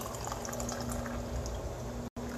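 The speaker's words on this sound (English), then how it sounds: "I got the coffee here. Been sitting here for a bit. I'm going to pour it in this thing here." Coffee is poured from one vessel into a container, a steady unbroken liquid stream that stays even and moderately quiet, cut by a brief pause just before the end.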